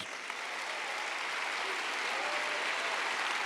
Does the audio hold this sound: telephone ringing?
no